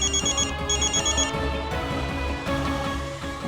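A telephone ringing in an office, a repeated electronic ring in rapid bursts over a steady background tone, clear and close.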